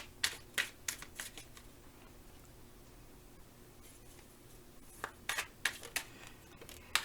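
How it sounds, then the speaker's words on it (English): Tarot cards from a Sexual Magic Tarot deck being shuffled: bursts of crisp riffling and flicking at the start and again near the end, with a quiet stretch between, close and fairly soft. "I'm pulling for you now from the Sexual Magic Tarot deck."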